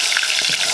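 Fish frying in overheated grease gives a loud, steady, hissing sizzle that fills the whole brief moment, close up and with no talk.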